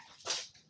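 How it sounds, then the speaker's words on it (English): Dogs whimpering indoors at a craft table, a short, faint, high whine swelling for a moment in the background. "Sorry about the dogs."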